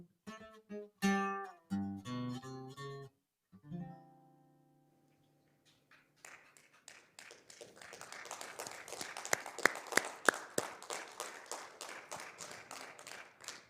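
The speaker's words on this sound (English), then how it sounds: "Let's have another round of applause" A theatre audience at a live show at Creative City Center in Regina breaks into dense, sustained applause after a stretch of music, many hands clapping steadily and fairly close.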